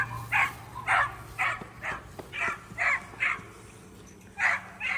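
Dogs on a farm bark repeatedly at a two-year-old horse, about ten sharp, moderately close yaps in a quick uneven rhythm over a quiet outdoor background.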